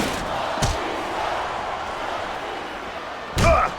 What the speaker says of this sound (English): Oh my God, what a chair shot.